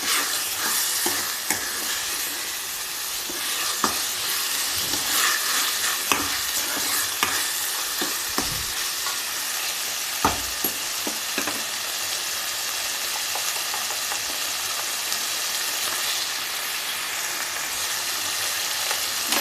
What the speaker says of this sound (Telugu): ఇలా వేగిన తర్వాత ఒక 1 టీ స్పూన్ పసుపుని కూడా ఇలా నూనెలో బాగా వేయించాలి.